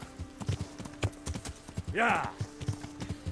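A horse's hooves clip-clop in a steady rhythm while riding in the video game Kingdom Come: Deliverance, with a brief whinny midway; someone speaks briefly over the hoofbeats.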